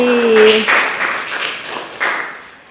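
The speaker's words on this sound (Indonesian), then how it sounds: "beri tepuk tangan lagi" Classroom applause during an English peer-teaching practice lesson, a short burst of clapping from a group that swells then tapers off, with a voice briefly heard at the start.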